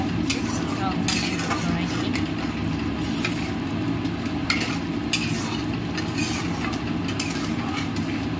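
Ground masala for a fish malai curry sizzles and fries steadily in a pan, with scraping stirring strokes and sharper clinks now and then across the whole stretch.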